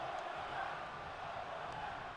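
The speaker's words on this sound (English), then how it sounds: "this sold out Omaha, Nebraska crowd is telling Bobby Lashley to do it one more time" Sold-out arena crowd in WWE 2K22 at an Omaha, Nebraska SmackDown show, a steady wash of cheering and chanting filling the whole stretch at moderate level, without clear talk over it.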